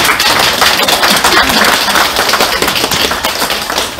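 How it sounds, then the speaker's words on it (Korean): Audience applause at an Incheon campaign launch rally for a presidential candidate, a steady dense wash of clapping from a crowd, loud and continuous throughout. "박수로써 맞아주시면 감사하겠습니다."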